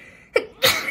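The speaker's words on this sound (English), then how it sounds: "I'm gonna sneeze." A single sharp human sneeze, a short intake followed by a loud, breathy burst, close and alone with no talking.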